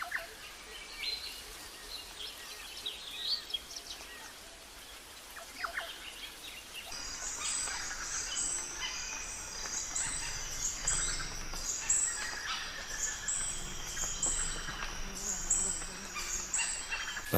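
Flycatchers calling outdoors while a nesting male defends his territory against a rival, faint high chirps and short calls scattered over a quiet background, growing busier and more frequent in the second half.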